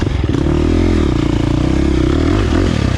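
A 2023 KTM 350 XC-F dirt bike engine drones loudly and close while riding off-road, holding a steady rough pulsing tone with slight pitch rises and dips as the throttle shifts. Clattery chassis noise sits underneath.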